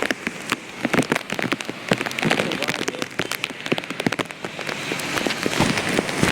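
Heavy downpour in Junagadh pours steadily and loudly, a dense continuous hiss of rain hitting surfaces, scattered with sharp, close drop splashes and spatters throughout.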